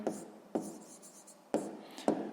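Hand writing during a math lesson: a pen or chalk scratches out several short strokes in bursts, close and fairly quiet, with no speech.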